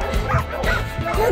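A puppy yips, barks and whimpers in a quick run of short, close cries, with people talking over it.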